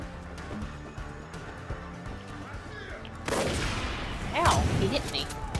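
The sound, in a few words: assault rifle gunfire in Far Cry 5 video game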